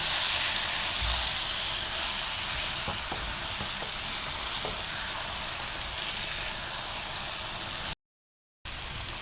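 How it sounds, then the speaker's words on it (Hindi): Brinjal, tomatoes and green chillies fry on high heat for baingan bharta, making a dense, loud, continuous sizzling hiss with a few faint stirring knocks, then a brief dropout near the end. "अब आप इनको अच्छी तरह से तेज़ आंच पर 5 मिनट के लिए भून लें।"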